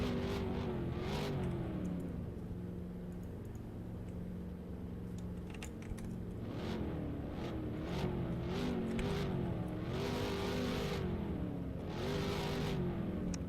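Race cars drive pace laps on a road course in the ROX Mods racing game, a steady engine drone with pitch rising and falling through gear changes, continuous and moderately loud, with faint clicks over it.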